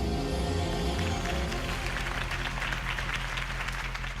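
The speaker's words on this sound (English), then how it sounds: "If only Mr. Wayne, my campaign's largest backer, could have heard that applause" A crowd at a Harvey Dent campaign rally in Batman: The Telltale Series applauds steadily, with a dense wash of clapping under low music that fades slightly toward the end.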